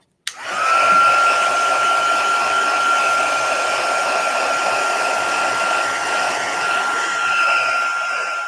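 A hair dryer blows steadily and loudly on craft paper, starting abruptly and holding a constant whooshing roar with a thin whine throughout, with no talking.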